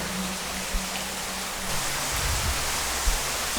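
A small waterfall pouring into a trout pool near tunnels in Wentworth makes a steady, broadband rush of falling water, constant and fairly close, with no voices over it.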